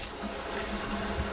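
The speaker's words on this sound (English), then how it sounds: "It's good to run the sprayers." Water from a kitchen sink faucet sprayer runs in a steady, even hiss throughout, close and moderately loud, with no talking.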